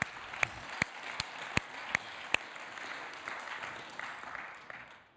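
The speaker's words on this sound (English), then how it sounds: "I want you to give yourselves a round of applause." A church congregation applauds from a distance in a steady patter, with a handful of sharper individual claps near the start, before the clapping fades out toward the end.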